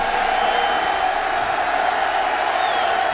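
A stadium crowd roars at a 2008 Oregon Ducks versus Cougars college football game, a loud, dense and unbroken wash of cheering. It sounds distant and fills the whole clip, with a voice talking over it.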